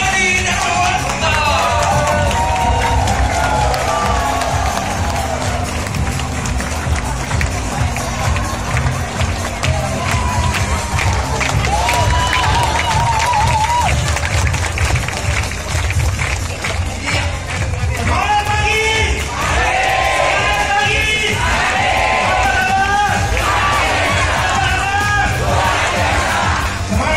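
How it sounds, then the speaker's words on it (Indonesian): A seminar audience applauds and cheers loudly and steadily for an introduced speaker at a motivation seminar in Bandung, the crowd roar running throughout, with a louder burst of shouts near the end. "Beri aplaus yang meriah untuk Peter Darmadi Darmawanto."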